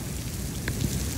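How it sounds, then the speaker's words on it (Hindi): Heavy rain falling in Qatar, a dense continuous hiss of drops with a low rumbling undertone, steady and fairly loud throughout, with no voices. "इधर कितने टाइम बाद बारिश हो रही है"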